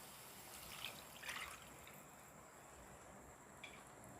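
Tamarind extract is poured into a pan of Tamil egg gravy, a faint, steady trickle of liquid with no talk.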